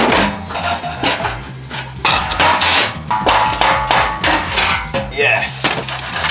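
Hammer blows strike a Porsche Cayman exhaust part to knock the joined sections apart, a close, irregular run of sharp metallic clangs and knocks lasting several seconds.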